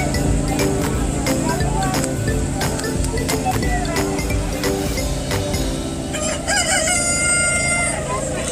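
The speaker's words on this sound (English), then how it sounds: "Look, there's the rooster over there." A rooster crows at a petting farm during a fall festival. The loud, drawn-out call comes near the end, over a busy bed of clucking, sharp ticks and low rumble, with people talking nearby.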